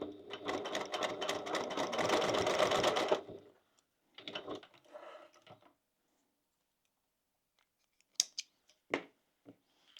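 A sewing machine runs a steady, loud burst of stitching along the bottom of a crossbody bag, then stops; a shorter second run follows, then a few light clicks and taps of handling.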